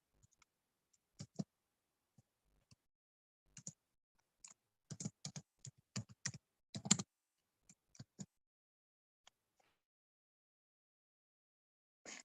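Keys clack on a computer keyboard while HTML code is typed, sparse taps at first building into a quick burst of keystrokes in the middle, then slowing to scattered single taps in a quiet room.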